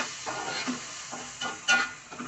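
Spices, including coriander and cumin powder, fry in a pan for a koramenu fish curry with a soft sizzle, broken by a few rhythmic scraping stirs and one louder clatter near the end.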